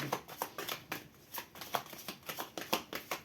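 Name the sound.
shuffling tarot cards for a reading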